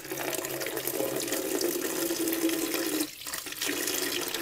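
Tap water runs steadily into a bucket with a gushing, splashing rush, briefly cut off near the end before flowing again.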